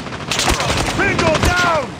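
In Call of Duty Mobile, a deployed sentry gun fires rapid automatic bursts amid a loud battle, with crackling shots, whizzing tones and a voice speaking over the gunfire.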